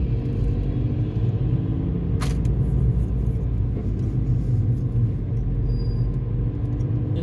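A car creeping along in light morning rush-hour traffic on Interstate 270, heard from inside as a steady low engine and road rumble, constant and fairly loud, with a faint click and no talking.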